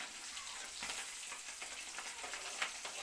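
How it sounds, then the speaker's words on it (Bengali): Pieces of boal fish frying in oil, a steady, fairly faint hiss of sizzling dotted with small pops and sputters, continuous and close with no talking. "বোয়াল মাছ ভাজা করতে গেলে ভীষণ ফুটে সামনে দাঁড়িয়ে ভাজা করা যায় না"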